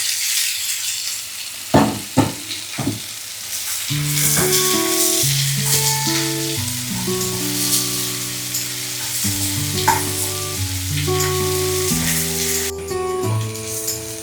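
Onions and green chillies frying with pork and garlic in a pan, a steady close sizzle with a few sharp knocks at the start, while a bright, rising melodic tone runs across most of the stretch.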